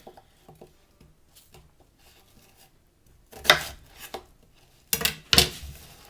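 Roughly chopping an onion with a knife on a cutting board for carrot soup: a few light taps, then two loud bursts of quick, sharp blade strikes close by, with no talking.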